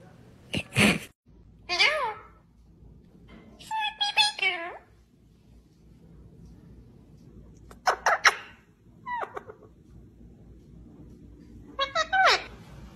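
A cat creeping up on a sleeping puppy gives several short, separate meows spread across a quiet room, each one clear and close.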